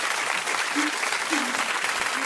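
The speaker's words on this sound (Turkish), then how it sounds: "Raşit'i alkışlıyoruz" Applause on a Zoom call during a remote hide-and-seek game: a dense, steady wash of clapping through compressed audio, continuous and fairly loud, with faint voice traces underneath.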